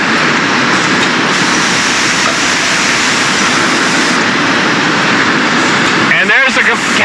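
Preforms are heated and blown into bottles by a bottle blow molding machine in a water bottling plant, making a loud, steady industrial roar and hiss that runs throughout, with a brief burst of sharper air and mechanical noise near the end.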